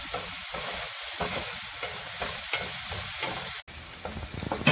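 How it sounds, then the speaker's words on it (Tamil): Onions and green chilies sautéing in a pan for raw banana puttu, with a continuous loud sizzle broken by rhythmic scraping stir strokes, close up, a brief cut near the end, and no voices. "இப்போ போதும் இது வெங்காயம் வதங்கினது."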